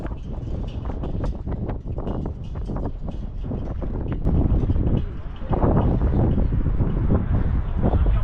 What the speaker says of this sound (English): The wind is too much, and I know it's gonna disturb